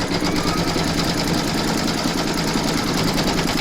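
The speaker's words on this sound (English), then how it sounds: "Pop your hoop into your machine and stitch round number 2 to secure it." An embroidery machine stitches a coaster held in its hoop, a loud, fast, steady mechanical whir with rapid needle clatter that runs without pause and then stops abruptly.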